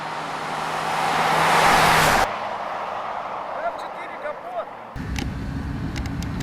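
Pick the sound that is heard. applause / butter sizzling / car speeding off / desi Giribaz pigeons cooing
car speeding off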